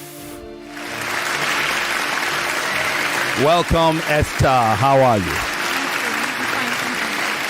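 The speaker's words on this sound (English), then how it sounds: "You people should reduce the applause so we can hear." A debate audience in Lagos, Nigeria claps loudly and continuously while a host's voice speaks over the applause midway, greeting a speaker.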